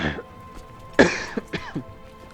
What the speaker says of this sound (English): Still getting a little bit of this dry cough.